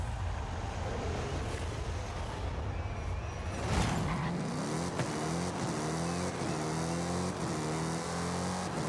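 A 2015 Dodge Challenger Hellcat in the Forza Horizon 5 racing game revs hard and runs up through its gears, the engine note climbing and dropping in a stepped rhythm with each shift, loud and close.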